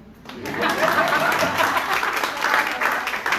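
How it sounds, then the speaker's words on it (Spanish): A church congregation applauds during a bilingual Spanish and English Sunday service, a dense burst of clapping that swells quickly and holds loud for several seconds, with faint chuckles mixed in. "Sí, aplaudir."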